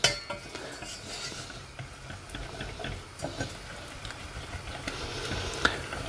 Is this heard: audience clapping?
no